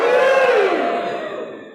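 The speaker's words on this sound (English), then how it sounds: "feel free to snap or holler or wave your hands or cheer if you feel called to" Church congregation at a Sunday service letting out a brief burst of cheering, whooping and hollering, loud and close at first, then fading within a couple of seconds.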